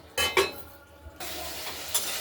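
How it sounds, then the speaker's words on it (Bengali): Masala stir-fried over medium heat in a pan for katla fish curry: a couple of quick spatula clinks and scrapes, then a steady close sizzle. "আমরা মাঝারি আঁচ দিয়ে মশলাটা কষিয়ে নেব"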